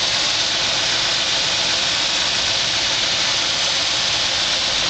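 A 1963 Chevrolet Impala SS with an unrestored original engine idles steadily, a smooth, even engine rumble heard close up with no voices over it.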